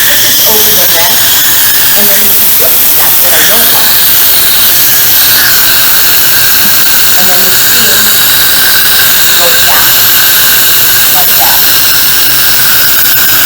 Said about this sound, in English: while this pressure is releasing